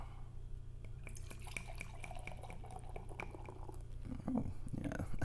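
A Hill Farmstead Society & Solitude #5 double IPA being poured, heard as faint close drips and fizzy ticks over a steady low hum, with a louder splash near the end.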